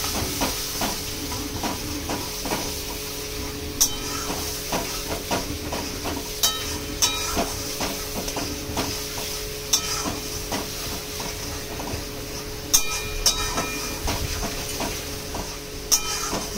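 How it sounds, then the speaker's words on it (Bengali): Duck egg curry masala with fried potatoes sizzles steadily in a pan while a spoon scrapes and clicks against the metal at irregular intervals, a close, continuous frying hiss with no talking. "ভালো করে মশলাটাকে কষিয়ে নিতে হবে"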